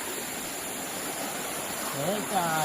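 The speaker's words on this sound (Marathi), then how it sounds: "बघा नदीवर पोचलोय" A river flowing at night, a steady broadband rush of water heard close, with faint voices and movement near the end.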